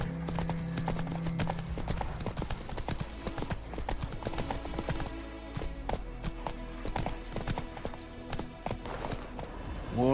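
Horse hooves galloping in the video game The Witcher 3, a rapid, steady clip-clop rhythm of hoofbeats continuing throughout over low background game sound.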